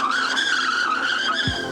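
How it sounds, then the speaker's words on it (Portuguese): An ENGWE EP-2 3.0 Boost electric bike's rear hydraulic disc brake with 180 mm rotors locks the wheel in a braking test, producing a loud, sustained tire squeal that ends abruptly. "Embalamos já para o teste de travagem, vamos lá experimentar o de trás"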